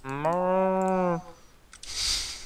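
A Minecraft cow gives one loud, drawn-out moo with clear harmonic tones, followed by quieter game sounds and a short burst of noise.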